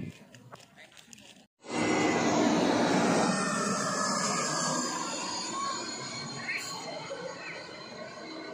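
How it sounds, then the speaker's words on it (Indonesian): An airplane passing overhead near Soekarno-Hatta Airport, beside a city lake: a loud, broad jet roar that starts abruptly after a quiet opening and then holds steady before slowly easing. "Maklum di sini dekat dengan Bandara Soekarno-Hatta, jadi pesawat akan sering lalu lalang di atas kita."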